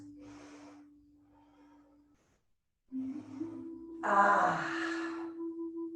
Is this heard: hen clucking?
no